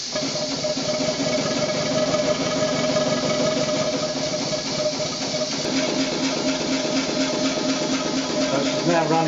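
A Maxitrak model steam locomotive runs on compressed air after slide valve setting, giving a steady close hiss with rapid rhythmic chuffing throughout at even loudness, with no one speaking.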